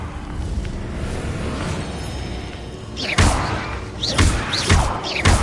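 Confringo fire-blast spells burst in Hogwarts Legacy, several loud thumping impacts with whooshing tails arriving in quick succession after a quieter stretch of ambient game sound.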